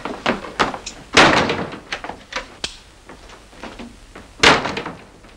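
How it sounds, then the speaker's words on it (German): A door slams shut with a loud thump in a 1960s radio crime drama, among a cluster of other knocks, taps and clatters of movement, with a second heavy bang near the end. "Die Tür ist zu."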